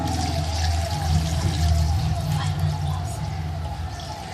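Water poured from a glass into a pot of chicken for kabsa, a steady close gurgling pour lasting several seconds, moderately loud.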